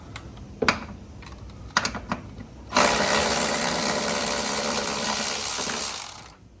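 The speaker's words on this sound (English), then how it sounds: "I got the electric ratchet. So let's take them off right now." An electric ratchet whirs steadily for several seconds, loosening the strut top bolts on a VW GTI MK7, after a few sharp clicks and knocks of tools, close by with no talk.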